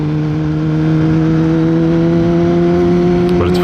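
A Kawasaki ZX10-R motorcycle runs under a rider, its engine droning loud and steady at a constant pitch with strong harmonic whine, building slightly near the start and holding throughout.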